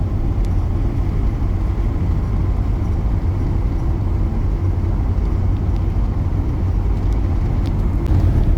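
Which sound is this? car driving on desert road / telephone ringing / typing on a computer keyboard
car driving on desert road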